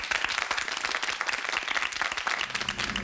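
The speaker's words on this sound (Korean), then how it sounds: "박수 부탁드립니다." A television studio audience applauds continuously for about three seconds, a dense and even wash of clapping heard at a moderate distance that stays steady throughout.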